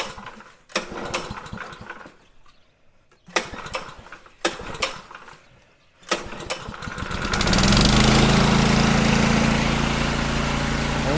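The gas engine on a TMG air compressor is pull started with several sharp rattling yanks and short sputters, then catches and settles into a loud, steady mechanical roar that continues to the end.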